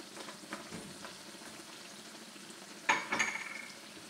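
A crab and spinach stew cooks in a pot with faint soft sizzling and bubbling, then a brief clatter of utensil against pot near the end, quiet and close, no voices.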